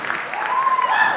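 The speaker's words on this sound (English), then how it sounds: "Die applaudieren." Applause from a live festival concert audience at Klanggut Festival, a brief, steady patter of clapping heard close, with faint tonal music lingering underneath.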